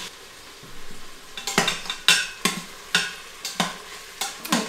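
Swiss steak browning in an Instant Pot, stirred and flipped with sharp repeated scraping strokes over a steady sizzle, close and fairly loud, no talking.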